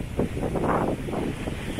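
Surf washes ashore on a gulf under strong wind, with gusts buffeting the microphone in loud rolling swells over a constant roar.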